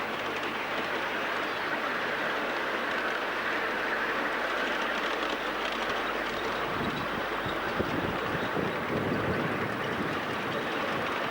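A 5-inch or 7¼-inch gauge model engineering railway train runs on the track of a society's ground, giving a steady close rumble and rattle of wheels, blended with outdoor wind noise.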